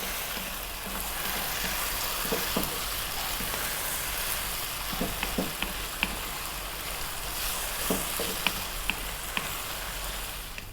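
Hot dog spaghetti frying in a pan over continued heat, giving a steady soft sizzle throughout with occasional small pops and light clicks, close and even, with no talking.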